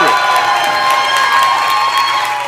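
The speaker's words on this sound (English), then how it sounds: "you heard the crowd" A wrestling crowd cheers and shouts loudly and steadily after a rap battle between Joe Hendry and Kevin Bennett, a dense wash of voices filling the hall without a break.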